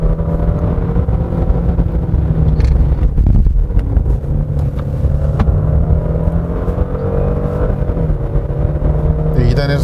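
A Genesis G90 AWD engine hums steadily and loud on a slippery winding road near Chugok Mineral Spring, its tone holding through a forced 2nd-to-3rd gear shift while someone talks over it.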